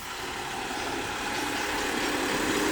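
Engine of a truck idling near railway tracks in Plant City, Florida, a steady broadband rumble that grows slightly louder toward the end, with no voices over it.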